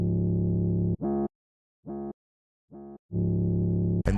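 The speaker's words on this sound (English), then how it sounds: "I also added this slide echo effect" Sliding 808 bass in a Bronx drill piano-type beat, with a slide echo effect: long low tones sit at either end and two short, fading repeats fall in the gaps between them, loud and alone with no voices.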